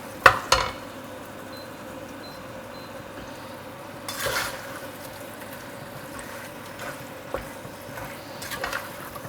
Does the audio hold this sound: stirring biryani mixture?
yes